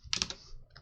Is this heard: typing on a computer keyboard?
yes